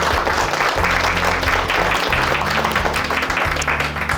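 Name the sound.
audience round of applause for the Old Main Foundation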